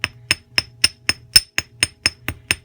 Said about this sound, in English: And then you just hammer those ends